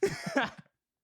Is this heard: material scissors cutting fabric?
no